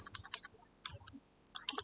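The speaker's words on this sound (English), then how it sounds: "I'm typing" Typing on a computer keyboard: quick, soft clusters of key clicks come in short bursts with brief pauses. The sound is close and quiet.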